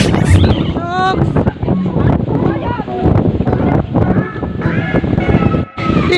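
Strong wind buffets the microphone with a constant rumbling roar, while people talk loudly over it throughout.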